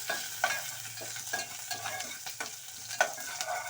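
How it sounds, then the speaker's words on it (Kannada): Green chillies and ginger frying in a pan for vegetable upma, with a continuous close sizzle and repeated sharp taps and scrapes of a stirring spoon, and no voices. "ಮೆಣಸಿನ್ಕಾಯಿ ಶುಂಠಿ ಎಲ್ಲವನ್ನು ಫ್ರೈ ಮಾಡ್ಕೊಳ್ಳಿ"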